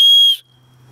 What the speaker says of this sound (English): So that is your emergency loud signal whistle.